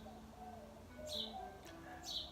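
Birds call outdoors in short, repeated chirps and higher whistled notes, a few brief bursts standing out over a soft, steady background.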